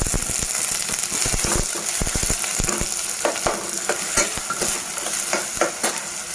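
Onions fry in plenty of oil in a pan for a tamarind and green chilli prawn stew, a constant loud sizzle broken by repeated close scraping and stirring clatter.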